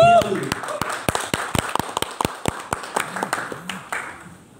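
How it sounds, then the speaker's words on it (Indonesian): Sparse, individual hand claps from a small audience welcoming the deputy chair of a regional legislature commission in Pamekasan, distinct sharp claps at a moderate pace, with a voice talking over them. "Tepuk tangan untuk beliau dulu."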